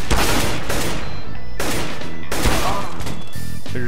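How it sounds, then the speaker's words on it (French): Flashbang grenade thrown in the video game CS:GO, loud bursts and crashing blasts in quick succession alongside gunfire-like impacts, with no talk over them. "I'm throwing a flashbang."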